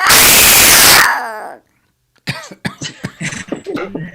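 After a burst of noisy coughing, a pause, then a person mimics a cat with a string of short voiced calls in quick succession.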